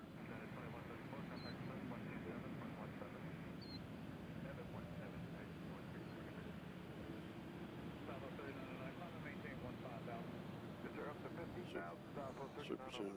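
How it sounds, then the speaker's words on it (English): An airplane taking off from Nashville International Airport gives a steady, broad roar that fills the whole stretch, with people talking over it throughout. "That's the plane that just took off."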